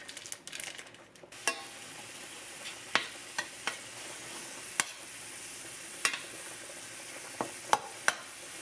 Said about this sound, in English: So as my ground beef is cooking